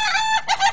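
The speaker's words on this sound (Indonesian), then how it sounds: "Inilah namanya ayam ketawa." A laughing chicken (ayam ketawa) rooster crows in a quick, stuttering burst of rapid high notes that sound almost like cackling laughter, close and clear.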